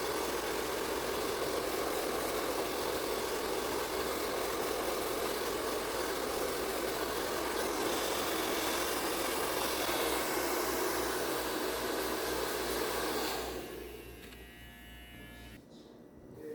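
Hair dryer blowing on a client's hair after a fade haircut, a steady loud whirring hiss that runs continuously before cutting off near the end.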